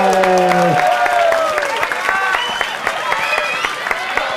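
Crowd applause at a women's sumo event during the Ōgamiyama Shrine annual festival on Chichijima, starting under a fading voice and then continuing as steady, fairly close clapping from many hands.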